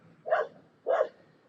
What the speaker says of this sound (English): just as I'm going on live, Chloe starts barking